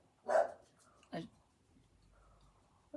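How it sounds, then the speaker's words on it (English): A dog barks twice, a sharp bark early and another about a second later, moderately close, with a quiet outdoor background between. "What's he barking at?"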